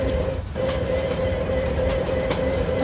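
A train rolls along in the Train Simulator Bangladesh video game, giving a continuous low rumble with a steady humming tone and faint, rhythmic clicks from the track.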